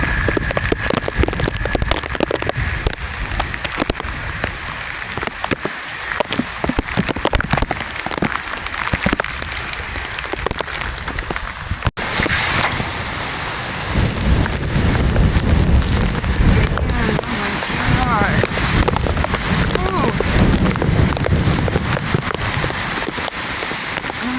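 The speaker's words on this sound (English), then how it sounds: "It's freezing rain." Heavy freezing rain from Hurricane Milton pelts down steadily in a dense, hissing wash, loud and continuous throughout, with the texture shifting slightly midway.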